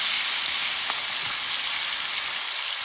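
Masala-coated stingray fish frying in hot oil in a village kitchen, a steady, close, loud sizzle and hiss that continues evenly throughout with no voices.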